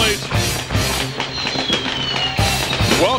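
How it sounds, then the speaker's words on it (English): Fireworks bursting at a banquet celebration, dense crackling pops and whistles over a cheering crowd, steady and loud throughout. "Fireworks going off all over the place."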